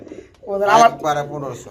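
King pigeons coo close by in a short, resonant call with two swelling notes, while people talk around them.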